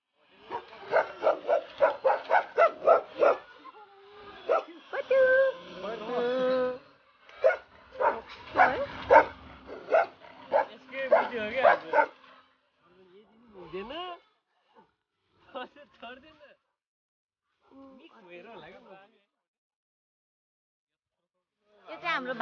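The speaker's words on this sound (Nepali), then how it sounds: "यहाँ चाहिँ हाम्रो भोटे कुकुर रहेको छ।" A Bhote dog at home in Chitwan, Nepal, giving a rapid run of sharp barks up close, then quieter whimpers and yips trailing off with pauses, with a voice heard alongside.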